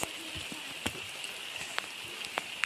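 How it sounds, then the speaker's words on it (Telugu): Heavy rain falls on stone steps leading up to a temple, giving a steady wet hiss with scattered close drip and splash ticks, and no talking. "చూడండి ఇప్పుడు వర్షం పడుతుంది"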